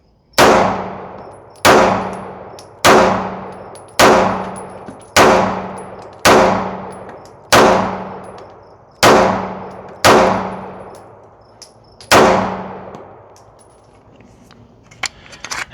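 Ten sharp, loud shots from a Taurus 9mm handgun are fired in steady succession about one and a quarter seconds apart, each ringing out with a metallic clang and a short echo, followed by quieter handling noise.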